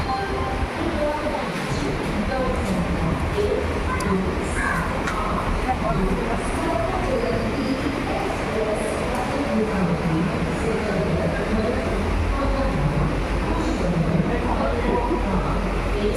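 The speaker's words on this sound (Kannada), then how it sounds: "ಸ್ವಾಮೀಜಿ ರೈಲ್ವೆ ಸ್ಟೇಷನ್ ಇದು" Sri Siddharoodha Swamiji railway station in Hubli hums with a continuous low rumble of trains and general platform bustle, a dense, steady wash of noise with people talking faintly in the background.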